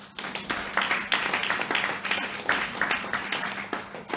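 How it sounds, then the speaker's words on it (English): Audience applause for a panel moderator at a conference plenary session, a moderate crowd clapping in a room, with individual sharp claps standing out over a steady wash, fairly close and sustained. "please applaud him"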